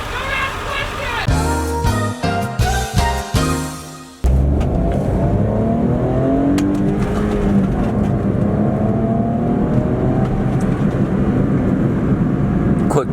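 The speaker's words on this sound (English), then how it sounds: "Quick second gear pull to 40." A McLaren 720S pulls hard in second gear, its engine note climbing loud and close for several seconds before a sharp shift, after which a steady high-pitched whir and rising drone carry on to the end.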